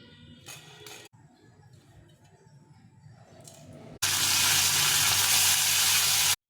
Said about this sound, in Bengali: মাছগুলো ভেজে নিয়েছি,